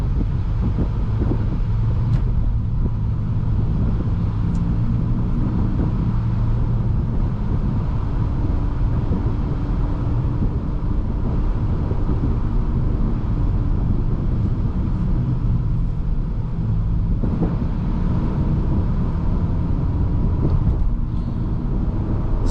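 A 2021 Nissan Altima SR AWD with a CVT accelerates steadily, its engine drone held at a constant pitch under continuous low road and wind rumble from inside the cabin.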